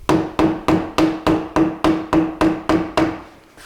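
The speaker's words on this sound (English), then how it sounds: "Then tap the end of the lead screw to tap it home, hopefully." A hammer taps the end of a Harrison milling machine lead screw to seat it, ten sharp ringing metallic blows at an even pace, close and loud, then a short fading ring with no voices.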